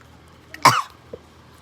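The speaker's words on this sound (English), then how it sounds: "I just like burped, laughed, and coughed" A single sharp cough, close and fairly loud, followed by a faint short throat sound a moment later in an otherwise quiet room.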